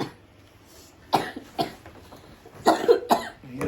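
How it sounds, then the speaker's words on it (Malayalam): A few separate coughs, close and fairly sharp, spaced out over a few seconds with quiet in between. "ചുമ"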